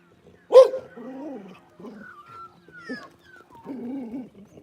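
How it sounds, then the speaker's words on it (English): Dogs bark at a magpie outdoors, one loud sharp bark at the start followed by quieter yips and whimpering calls, with bird chirps in between. "The dogs are going after a magpie there."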